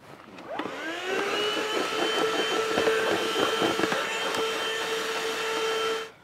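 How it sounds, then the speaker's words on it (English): ThisWorx 12V handheld car vacuum cleaner sucking up crumbs and sand, its motor whirring up quickly into a loud, steady close whine for about five seconds, with rattling debris, before shutting off. "it's definitely not as strong as something like a shop vac, but it does get all the sand and dirt and everything off."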